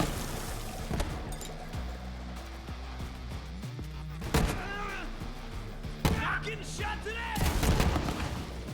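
Bursts of video game gunfire crack out in several separate volleys over a steady background, with voices talking over parts of it.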